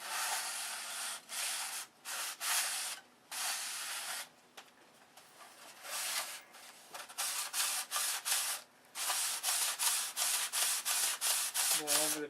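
Soft sanding block wrapped in 150-grit sandpaper rubbing over a thin 3/32 wooden cap, making close, steady raspy strokes in repeated bursts with brief pauses, quickening into a fast, even back-and-forth rhythm toward the end.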